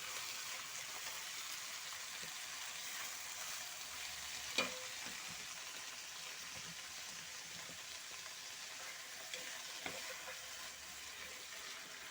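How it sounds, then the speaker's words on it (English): Spinach fries gently in a pan over medium heat as it is stirred, giving a soft, steady sizzle with a few sharp utensil clicks against the pan. "stir our spinach a bit"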